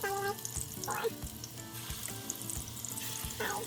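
Cheesy meatballs sizzle and pop steadily in hot coconut oil in a pan, a close, continuous frying hiss with small spits and a faint scrape of stirring.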